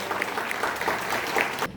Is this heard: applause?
yes